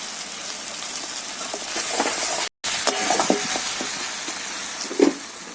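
Ground spices fry in a pan with fish and bottle gourd leaves, giving a continuous moderate sizzle with soft crackles and a few stirring scrapes, close by with a brief gap midway.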